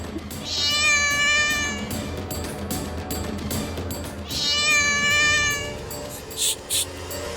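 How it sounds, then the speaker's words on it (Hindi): A cat gives two drawn-out meows a few seconds apart, clear and fairly close, over a quiet room with faint background sounds and a couple of short knocks near the end. "शायद बिल्ली थी"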